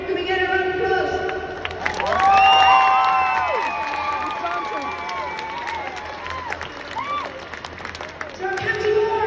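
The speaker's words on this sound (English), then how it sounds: "Can we get a round of applause?" Crowd at an All-Ireland Senior Camogie championship celebration for the Galway team, cheering and shouting with rising excitement, swelling loud and then sustained as a broad roar with voices calling out.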